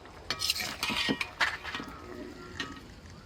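Soft homemade figs in sugar syrup are lifted out and dropped into a pot, with a metal spoon scraping and clinking against the vessel in several close, wet, uneven strokes.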